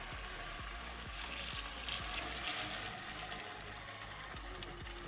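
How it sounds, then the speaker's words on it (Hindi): Half a litre of water is poured into a pan of frying potatoes and peas, producing a steady splashing, hissing sizzle with scattered clicks, fairly faint and without talk. "अभी हम इसमें पानी ऐड करते हैं। हाफ़ लीटर ये पानी है।"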